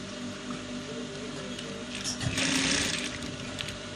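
A sewing machine running a half-inch seam on rope trousers, a steady close mechanical whir that swells slightly midway with no voices.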